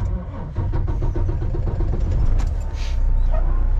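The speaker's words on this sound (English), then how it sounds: "start the engine" A vehicle engine cranks and starts during a pre-trip circle check, then settles into a loud, close, steady idle with a rhythmic chugging pulse.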